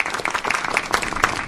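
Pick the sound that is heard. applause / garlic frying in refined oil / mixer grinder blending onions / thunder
applause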